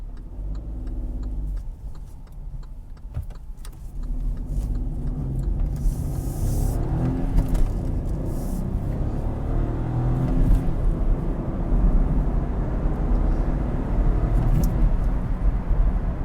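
Low, rumbling engine drone from inside a moving 2019 Kia Picanto with a 1.0-litre three-cylinder engine, steady with slight swells, a few faint clicks, no voices.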